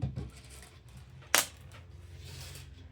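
Pieces of glass being sorted by hand give a few faint clicks and scrapes, then one sharp bright clink in the middle, close up and quiet otherwise.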